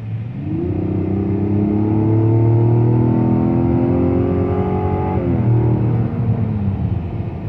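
A Mazda CX-90 accelerates hard from inside the cabin, its engine note climbing steadily through one gear, then dropping sharply at a shift and rising again, loud and continuous.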